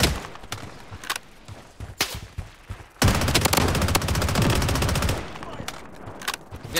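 Rapid automatic gunfire in the battle royale game Blood Strike, a sustained burst of loud, dense shots, with scattered single shots and sharp cracks before and after it.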